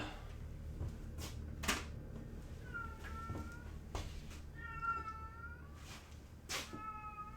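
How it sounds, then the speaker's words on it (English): A cat yowling and meowing outdoors, several drawn-out wailing cries in bursts, heard at a distance over a steady indoor background hum. "the cat's just, like, screaming her head off outside again."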